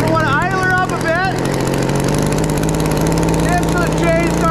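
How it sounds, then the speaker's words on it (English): A Stihl chainsaw engine runs steadily at high idle, a loud continuous buzzing drone with a rapid regular firing pulse, while someone talks over it. "And just really bask in the glory of steel chainsaw."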